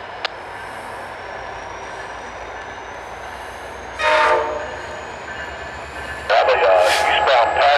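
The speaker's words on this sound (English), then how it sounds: "Eastbound passenger train running by." An eastbound passenger train rumbles steadily past nearby, with a short horn blast partway through and then a longer, louder horn near the end.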